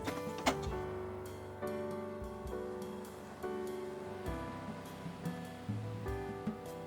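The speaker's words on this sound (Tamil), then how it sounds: "கலந்து விட்டுட்டு கொஞ்சமாக தண்ணி சேர்த்திக்கலாம்." Water splashes into a pan of sizzling biryani masala for chicken biryani, raising a loud, steady hiss and bubbling with occasional clatter from the pan, with no voices.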